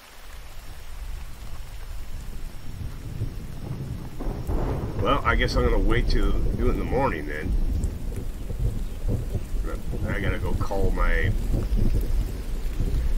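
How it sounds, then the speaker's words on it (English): Heavy rain and a rumbling thunderstorm in a video game, with a loud, continuous downpour and deep rolling thunder swelling under someone speaking. "Sometimes this game's a pain in the butt with the rain."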